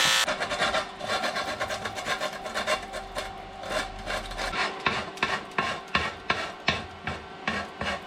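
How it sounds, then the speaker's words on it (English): A welded aluminum crack repair being sanded smooth: close, continuous abrasive rubbing that settles into rhythmic back-and-forth strokes, moderately loud. "Welded up, sanded down nice and smooth."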